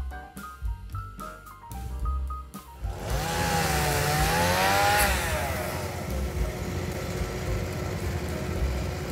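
A chainsaw whines steadily in the distance, its pitch rising and falling as it cuts, over a low rumbling background.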